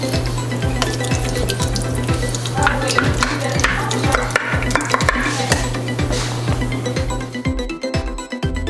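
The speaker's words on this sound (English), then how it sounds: "I'm just going to mix this around." A spoon stirs a wet homemade dog food mixture in a crock pot, close rhythmic squelching scrapes repeating about twice a second, then stopping near the end, with no talk.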